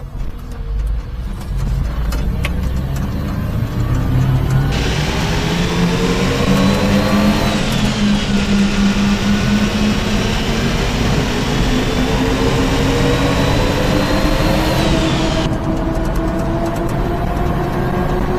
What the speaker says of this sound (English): That was floored third gear.